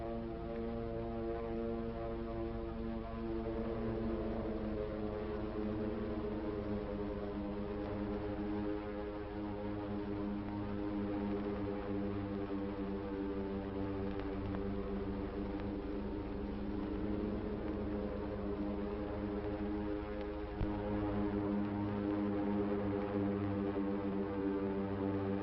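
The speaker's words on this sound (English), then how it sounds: "the drone of planes was faintly heard" Propeller aircraft in the 1941 Pearl Harbor attack drone steadily and continuously, a low droning hum with layered tones that holds evenly throughout with no voices, though the recording sounds muffled and dated.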